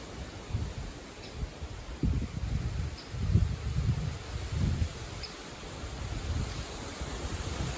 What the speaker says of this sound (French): Donc du vent assez fort,